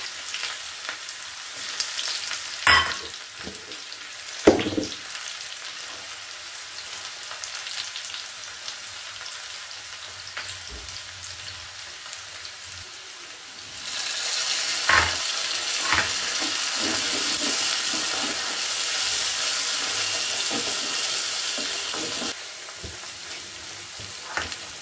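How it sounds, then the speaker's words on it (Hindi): Spices for tempering lentils crackle and sizzle in hot oil, starting with a few sharp pops and clinks, then a steady loud sizzle takes over before cutting off. "अभी मैं लगाऊंगी इसमें तड़का।"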